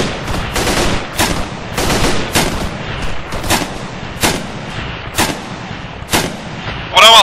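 Small arms fire aimed at infantry in a cargo bay during an Arma 3 battle, loud close bursts of gunshots cracking in an uneven rhythm, roughly one volley per second, with no voices.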